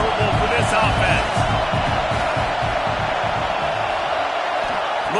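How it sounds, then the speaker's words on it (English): Stadium crowd roaring steadily in the NCAA 26 college football video game, a loud dense wash of cheering and noise that carries on throughout under the game mix. "This crowd trying to make life miserable for this offense."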